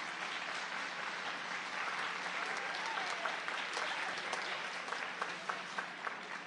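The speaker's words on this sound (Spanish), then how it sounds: "Un aplauso para ellos, por favor, también." Steady applause from an audience honoring Chilean teachers fills the room, dense clapping sustained from start to finish with no voices on top.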